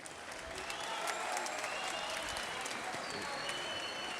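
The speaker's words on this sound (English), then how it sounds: "a round of applause for the fighters." Boxing crowd applauding the fighters at the end of a bout, a dense continuous wash of clapping with some crowd noise, fairly distant and even throughout.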